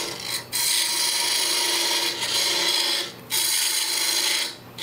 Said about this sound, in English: I'm going to grab my parting tool and move some wood quickly